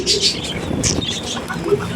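African lovebird calls, sharp high chirps and short squawks repeating close by over steady background chatter, with a person talking throughout.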